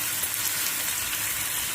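Chopped onions and green chillies frying in a pan, a steady, close, hissing sizzle throughout with no talk.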